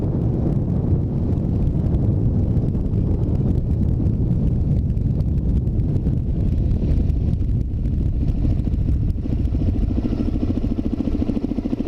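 A Suzuki DRZ400's single-cylinder thumper engine runs steadily throughout, its low throb partly buried under heavy, constant wind buffeting on the microphone.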